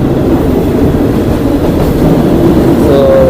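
A train rolls steadily along Thailand's Death Railway through jungle, a continuous loud rumble of wheels and carriages with faint clatter, close and unbroken throughout.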